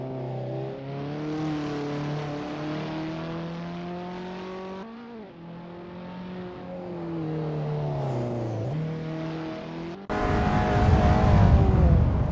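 Abarth 500 racing cars in Assetto Corsa drone with a loud, sustained engine note that rises and dips as revs change, then shifts abruptly to a harsher, louder roar near the end; no speech.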